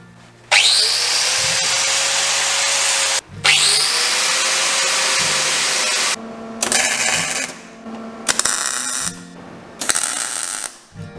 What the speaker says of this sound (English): Now I'm going to clean the paint so I can weld the hinges onto the body